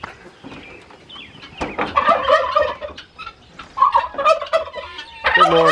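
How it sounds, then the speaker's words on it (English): Several turkeys gobble in bursts, with rapid rattling calls rising and falling and some clucking fowl mixed in, fairly close. "Sounds like more turkeys."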